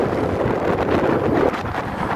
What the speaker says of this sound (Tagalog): Sobra pong lakas ng hangin, kaya hindi maayos po yung ating boses.